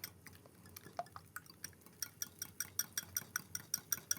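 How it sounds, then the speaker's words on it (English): Eggs whisked in a bowl, a quiet, quickening series of light metallic clicks and taps that grows steadier and more rhythmic over a few seconds. "I'm going to keep whisking my eggs."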